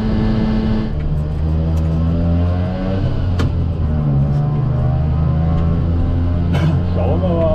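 A Piaggio Ape 50 three-wheeler engine pulls away, its small motor droning loud and close with rising and falling revs as it changes gear, and a person talks over it.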